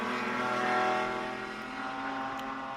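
A TC America race car engine at Watkins Glen roars in a sustained high-pitched howl, swelling then easing slightly as it holds revs, heard alone without voices.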